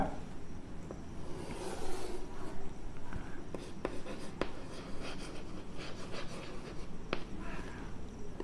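Steady scratching strokes of chalk or marker on a board while parts of a human ovary diagram are labelled, continuous and close with short pauses between words.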